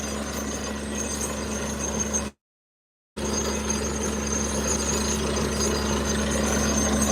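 A heavy, rapid rhythmic pounding of a drilling rig runs continuously, cut by a brief silent gap before resuming just as loud.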